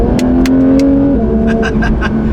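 A Porsche 992 GT3 flat-six accelerates hard from close inside the car, its loud rising engine note briefly dipping at a gear change before climbing again.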